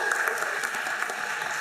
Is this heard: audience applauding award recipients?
yes